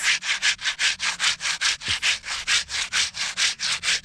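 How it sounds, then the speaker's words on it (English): Hardwood being sanded by hand with sandpaper, a steady run of about sixteen rhythmic back-and-forth rasping strokes, close and fairly loud, with no talking. "So you can see just putting a sandpaper to clean on top of it to make it to be somehow smooth."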